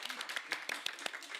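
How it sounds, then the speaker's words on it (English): A small judging-room audience clapping briefly at a photography awards session, a handful of light, scattered claps at moderate distance. "can we have a clap, clap,"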